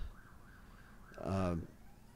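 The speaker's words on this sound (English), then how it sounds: "My apologies for the ambulance going by" A passing ambulance siren, a wailing tone that swells briefly to a loud peak and fades again, heard indoors over a low background hum.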